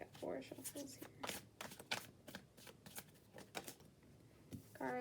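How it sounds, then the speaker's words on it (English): Close, crisp shuffling of a tarot deck, a steady run of riffles and soft card slaps lasting several seconds with no talking. "We're gonna get 4 shuffles here."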